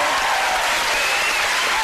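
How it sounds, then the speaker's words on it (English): A television game show studio audience applauds in a dense, steady wash of clapping that fills the whole moment at full volume, with no pauses. "One more round of applause."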